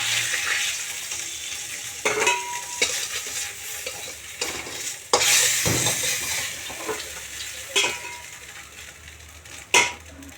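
Black cumin seeds, green chillies and boiled tomato sizzle in hot oil in a home kitchen after fish has been fried, with steady frying hiss, several sharp bursts of spattering and occasional stirring clatter of a utensil against the pan.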